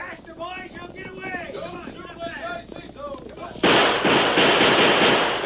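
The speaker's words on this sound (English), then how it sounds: "I'll fire a few shots to make them think I'm trying to stand them off." Gunshots in an old-time radio drama about the Lone Ranger: after someone speaks, a sudden loud volley of shots breaks in and keeps going, harsh and close on the old recording.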